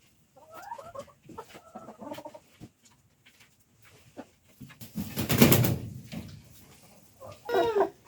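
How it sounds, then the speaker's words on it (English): Chickens cluck in short bursts with pauses between, close by, one louder squawk-like flurry in the middle and another at the end. "So let's try putting a couple of chickens on here."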